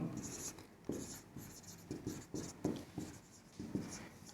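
A marker scratches out an example on a board during a Hindi grammar lecture on voice and objects. Irregular short strokes come faint and close with brief pauses between them, and no voice is heard.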